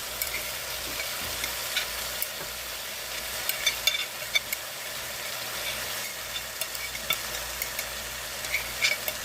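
Rice tossed into a hot frying pan with sausages sizzles and crackles steadily while a spoon scrapes and stirs it now and then, a close but fairly quiet kitchen sound with no talking.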